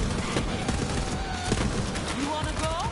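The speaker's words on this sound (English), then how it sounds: "there's someone shooting you with an RPG" RPG and gun fire in a shooting video game, a dense continuous barrage of blasts and crackling shots with whistling tones layered over the top, all loud and steady, with voices mixed into the din.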